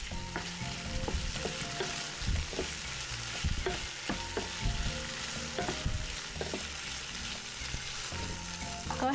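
Potatoes seasoned with salt and pepper sizzle and crackle in a pan as they are tossed, giving repeated bursts of scraping and shuffling over a continuous loud frying hiss.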